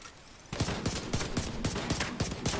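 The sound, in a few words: gunfire in the video game The Division 2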